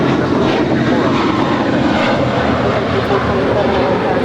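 Steady, loud engine roar of a Singapore Airlines Boeing 777-300ER on final approach to land at Los Angeles, a continuous broadband rumble throughout with no spoken voices.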